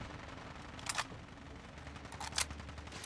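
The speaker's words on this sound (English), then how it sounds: "What's firing from back here? Oh, my laser turret in the Paradise Island." A Fallout 4 laser turret fires in bursts, two quick clusters of bright crackling zaps over a low steady background hum, moderately distant.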